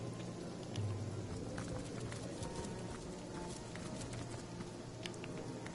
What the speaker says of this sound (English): I was finally in an area where it wasn't raining, and now it's raining again.